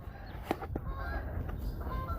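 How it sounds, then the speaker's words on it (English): Geese honking as they land nearby, several faint, scattered honks over a low outdoor rumble. "Those are the geese."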